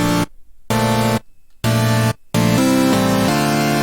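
A layered supersaw chord patch in FL Studio Mobile, combined with a signature sound, hits in loud buzzy stabs with sharp gaps, then sustains with shifting chords, thick and punchy, with no talk.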